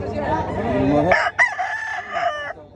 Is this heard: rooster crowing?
yes